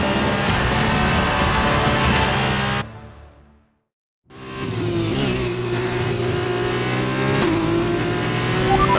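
F2 race cars in F1 2021 at Abu Dhabi, a loud roaring engine wail that cuts to near silence for about a second, then returns as rising, revving engine notes that sweep upward through the rest.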